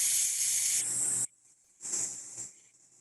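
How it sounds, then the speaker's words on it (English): A voice exhales on a long hissing S sound during a sight-singing breathing exercise, a sustained bright hiss that cuts off, followed by a second shorter hiss after a short pause. "In for 4, out on an S."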